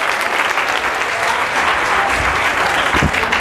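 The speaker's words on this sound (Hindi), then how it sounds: "एक बार जोरदार तालियां" Loud, sustained applause from a large audience of students at a career counselling session, dense clapping filling the whole stretch with a low murmur of crowd noise beneath.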